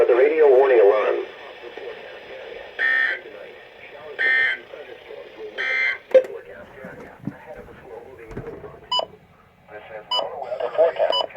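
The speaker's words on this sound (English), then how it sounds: "This ends the test of the National Weather Service weather radio warning alarm." A NOAA weather radio broadcast carries a warning alarm test, with short tonal bursts sounding between stretches of announcer speech, ending in a busier burst of tones.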